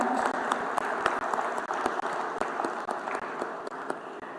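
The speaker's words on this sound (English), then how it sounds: "let us thank them with a huge round of applause" Applause from a conference audience at a life sciences event, a steady dense patter of many hands clapping that holds at an even level throughout with no voices over it.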